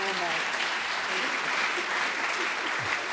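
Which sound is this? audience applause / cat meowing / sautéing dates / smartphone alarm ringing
audience applause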